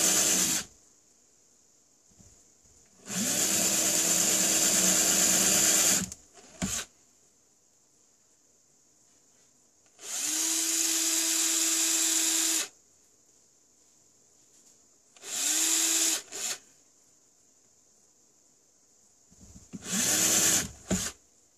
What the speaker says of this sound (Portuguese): Então eu vou furar todos os positivos desse lado.